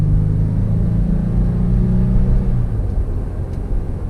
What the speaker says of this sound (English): Let's get a little acceleration with this 4-liter V6